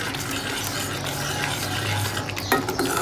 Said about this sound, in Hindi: इसको हम भून लेंगे थोड़ी देर के लिए